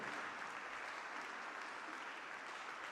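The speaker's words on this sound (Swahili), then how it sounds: "Pigie Bwana makofi." Congregation clapping during a church service, a dense, steady wash of applause that fills the whole stretch without a break.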